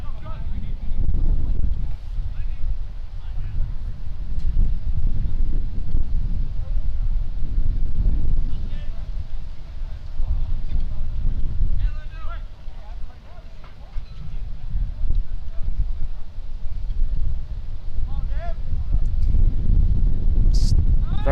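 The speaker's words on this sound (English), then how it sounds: "It's very windy out here" Gusty wind buffets the microphone at an outdoor high school baseball game, a loud continuous low rumble surging and easing throughout, with faint talk beneath.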